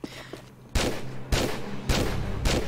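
Musket fired in a Tomb Raider custom level, with four loud, evenly spaced booming shots about half a second apart, each followed by a short rumbling tail.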